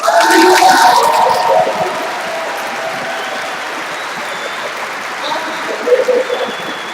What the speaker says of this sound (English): give them all your applause